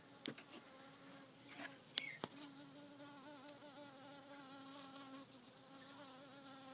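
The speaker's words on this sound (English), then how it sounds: "A little wasp with a flower petal on its hands." A small wasp or bee at a nest built from flower petals gives a steady, faint insect buzz that drones throughout with wavering pitch, broken by a few soft clicks near the start.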